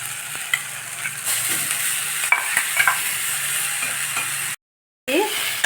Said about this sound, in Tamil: இப்போ நம்ம பீட்ரூட்டு இதில் சேர்த்துக்கலாம்.